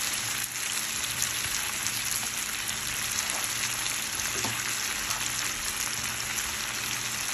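Squash and zucchini fry in a pan with a steady, dense sizzle that holds constant and close throughout, with no talking over it.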